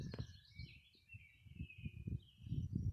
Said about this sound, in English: You can hear the birds.